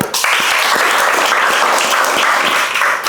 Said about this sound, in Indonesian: Nah, yuk tepuk tangan.